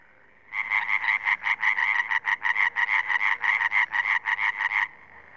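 Tree frogs croaking in a rapid, steady series of about twenty loud, close pulses that start abruptly and stop after roughly four seconds, with no voices.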